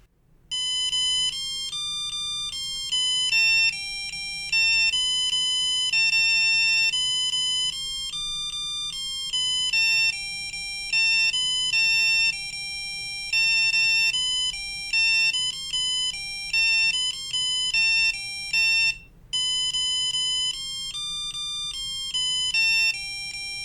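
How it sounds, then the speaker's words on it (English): A single electronic buzzer on an I2C-controlled music board plays a bright, beeping melody of steady square-wave notes, continuous for about twenty seconds with one brief pause. "I only want you to use 1 buzzer, and we'll hear what that sounds like alone."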